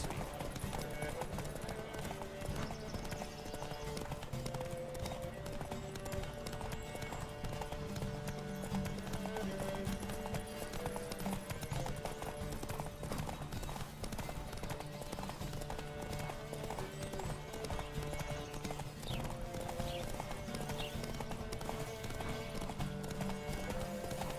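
Galloping hooves from a horse race in The Witcher 3: Wild Hunt clatter in a rapid, continuous rhythm throughout, with occasional whinnies mixed into the steady pounding of several horses.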